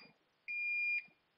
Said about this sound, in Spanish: para cerrar este molesto pitido